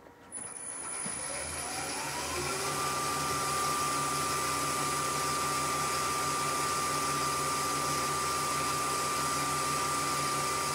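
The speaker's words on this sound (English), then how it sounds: "We're going to run the lathe just to get them spinning" A wood lathe spins up and keeps running while turning a Christmas pyramid, giving a steady mechanical whine with a rising tone that settles into a constant hum, loud and continuous with no talking.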